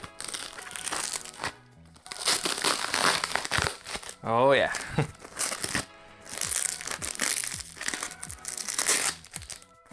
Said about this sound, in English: I just love the sound of unboxing